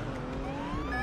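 Police car sirens in the Roblox game Emergency Response Liberty County, a steady rising wail sounding loud and close, alone over a brief moment with no talk.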